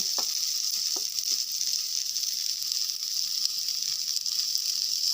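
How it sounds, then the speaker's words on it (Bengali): Chicken seekh kebab fries in a pan with little oil, a steady close sizzle running throughout with a few faint clinks near the start. "আরও একটু ভালো করে ফ্রাই হতে দেব। চিকেন শিক কাবাবটা ভাজা হয়ে গেছে।"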